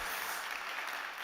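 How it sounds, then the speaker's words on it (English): Short, faint wash of audience applause for a speaker at a tech conference stage, steady and distant. "big round of applause for Carlos"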